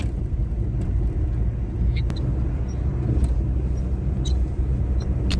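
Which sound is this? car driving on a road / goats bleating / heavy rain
car driving on a road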